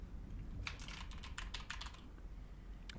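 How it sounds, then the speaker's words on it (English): Rapid keystrokes on a small computer keyboard fitted with rubber silencers, a muffled run of soft clicks in bursts over steady background hum, with a final tap near the end. "This keyboard is quieter for sure."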